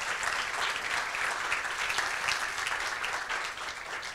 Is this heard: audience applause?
yes